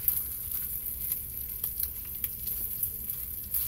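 Bacon and four small pieces of sausage frying in a pan, giving a steady, close sizzle with soft crackles and spits running throughout, with no voices.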